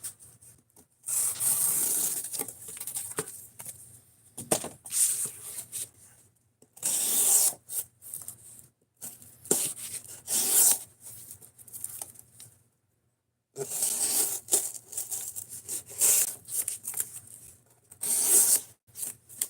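Freehand blade sharpening comes as bursts of gritty rasping strokes in separate runs, with short silent pauses between them and one longer gap, close and fairly loud with no talking.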